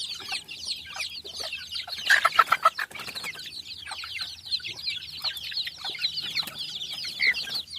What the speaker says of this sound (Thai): ไก่ชุดนี้จะอยู่ในสุ่ม ตลอดนะครับตั้งแต่ฟักนะครับอยู่กับแม่